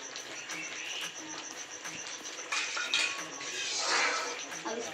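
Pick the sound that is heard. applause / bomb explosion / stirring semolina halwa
stirring semolina halwa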